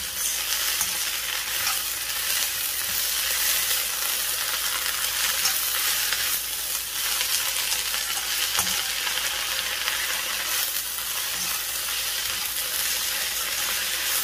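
Fenugreek (methi) leaves frying in a pan for a methi tomato curry, a steady close hiss and crackle of oil running unbroken for about fourteen seconds, with occasional soft clicks of stirring and no talk.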